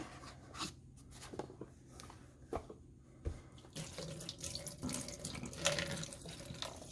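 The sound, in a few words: water poured out into a sink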